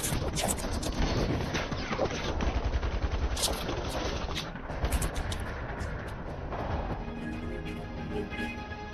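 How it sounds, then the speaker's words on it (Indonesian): Dense, sustained gunfire in a battle between elite troops and ISIS terrorists in a mountain war film: rapid machine-gun bursts and overlapping shots keep up a loud, continuous barrage for the whole stretch. "Di bawah komando Letnan Faisal, akhirnya pertempuran pun terjadi."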